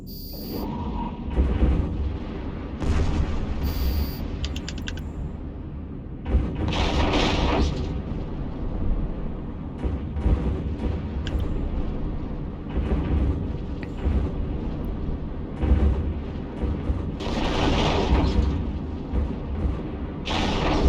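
Spaceship weapons firing in the EVE Online video game as a steady run of heavy, booming blasts and rumbling impacts. Brief electronic beeps sound over the continuous barrage, and no one speaks.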